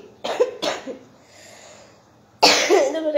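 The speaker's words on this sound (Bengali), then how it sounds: "কাশির নাম শুনে আরো কাশি চলে এলো।" A person coughs during a live stream: two short, harsh coughs, a brief quiet pause, then a louder, longer fit of coughing close to the microphone.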